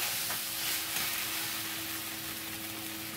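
Pui saag greens go into a pan of spiced masala and fry with a steady, soft sizzle, quiet and continuous without any talking.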